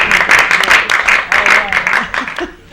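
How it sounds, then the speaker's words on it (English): Brief clapping breaks out at a town selectmen's meeting to honour the public works staff. The scattered applause is fairly loud and close, and voices mingle in before it fades out after about two and a half seconds. "They deserve a round of applause."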